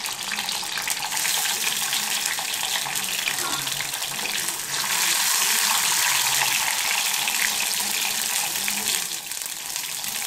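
Garlic cloves sizzle in hot oil with cumin and fenugreek while a fish curry is cooked without onion, a steady loud hiss of frying that carries on with no talk over it.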